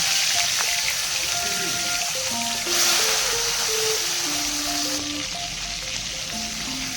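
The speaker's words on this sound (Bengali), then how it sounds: "সর্ষের তেলটা যখন ভালো করে গরম হয়ে যাবে, মাছগুলো আমি একে একে দিয়ে" Arr fish frying in hot mustard oil, a steady loud hiss and crackle of sizzling close up, continuous throughout with music playing over it.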